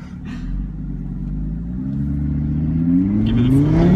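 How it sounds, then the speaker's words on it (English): A 2015 Audi RS3 engine revs up close, its pitch climbing steadily over about four seconds, with no talking. "we're just revving it because it crackles and pops"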